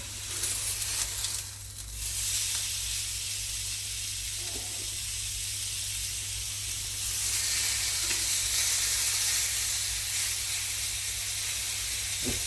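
Steak sizzles on an oiled grill with a steady, loud frying hiss, a brief flare of spatter early on and soft clinks as the meat is moved, without any talking.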